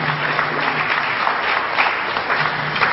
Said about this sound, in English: get his brother a round of applause